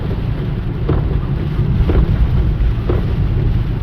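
Heavy rain drums steadily on a car while driving on a long road trip to a football match, a dense continuous wash of noise with low road rumble underneath and no talking.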